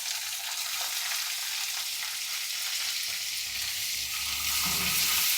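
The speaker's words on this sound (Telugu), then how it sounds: "ఇలా జీడిపప్పు దోరగా వేగిన తర్వాత అల్లం, పచ్చిమిర్చి, ఆనియన్" Cashews, ginger, green chilli and onion frying in a pan for pala upma, giving a steady, bright sizzle with a little stirring. The sizzle swells slightly near the end, with no talking.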